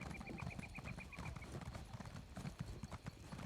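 Horse hooves clip-clop steadily in The Elder Scrolls Online, a quick, even rhythm of close hoof strikes over a busy game background, with a brief whinny-like tone early on and no clear speech.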